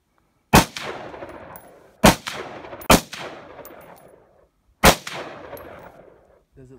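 Four sharp, loud gunshots from an AR-15 rifle and a Glock 9mm pistol fired outdoors toward a hill, each crack trailing off in a long rolling echo, spaced unevenly with pauses between.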